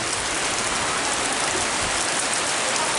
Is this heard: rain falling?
yes